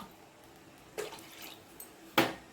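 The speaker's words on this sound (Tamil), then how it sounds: "ரெண்டு கப்பு தண்ணி ஊற்றிடலாம்." Two cups of water poured into a cooking pot while making adai: two short splashing gushes, the second louder and sharper, against a quiet kitchen background.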